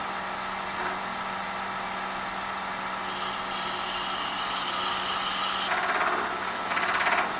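A steady mechanical whir of a lathe with a pin jaw drilling chuck turning at a slow 1,000 RPM while making a slimline pen, constant and close, with a slightly brighter scraping texture creeping in toward the end.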